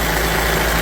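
Diesel engine of a roughly 35-year-old Wood-Mizer sawmill at an Amish sawmill, running with a steady low, throaty drone over a brief stretch and no talk.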